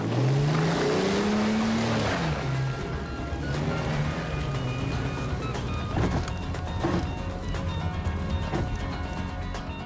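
A car engine revs and pulls away close by, a loud rising then falling motor tone with some rattle, continuing steadily as the vehicle drives off.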